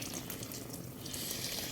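Evaporated milk poured into a pot of chicken sopas makes a quiet, steady liquid splash and trickle, brief and close up.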